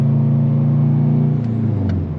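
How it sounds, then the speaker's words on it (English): The engine of a drift car fitted with an HKS blow-off valve hums at a steady low idle from inside the cabin. Near the end there is a short soft airy puff and the engine note drops. "I got an HKS blow-off valve so you can hear that"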